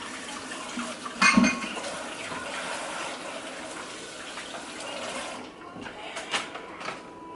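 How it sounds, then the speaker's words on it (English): Hands being washed under a running kitchen tap while a sweet potato casserole is prepared; a steady, moderately quiet wash of water runs throughout, with a brief louder splash near the start. "let me wash my hands"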